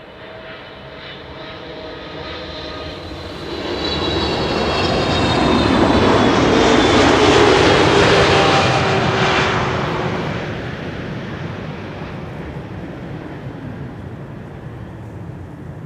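A KLM Boeing 777-300 airliner arriving at Schiphol passes low overhead, its engine roar swelling from a distant rumble to a loud peak around the middle, then fading back to a steady hum, with no talk.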